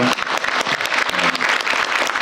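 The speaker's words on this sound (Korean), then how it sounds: "박수 쳐주세요" A room applauds during a televised Korean government meeting: a brief, dense burst of many hands clapping, fairly close, with a faint voice briefly underneath.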